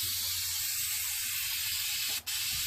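Aerosol can of Rhino truck bed coating spraying a Ford Ranger flare side bed in a steady, close hiss, ending with a brief sharp burst near the end.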